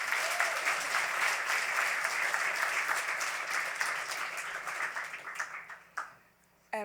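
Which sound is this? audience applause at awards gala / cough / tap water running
audience applause at awards gala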